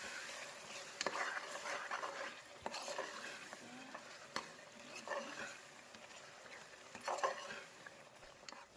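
Onion-tomato gravy with curry leaves being stirred in hot oil for a potato curry, a spoon scraping the pan in repeated strokes over a steady close sizzle, with no talking.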